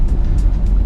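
A 1992 Honda Genio sedan rumbles along at a steady low pitch from inside the cabin, loud, close and continuous for a brief moment, with no voices over it.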